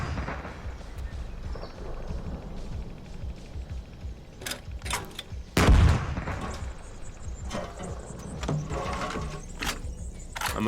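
Enemy tank cannon fire in the combat game GHPC, with one loud, close boom and a rumbling tail standing out against steady background noise, plus a few sharper distant cracks before and after it.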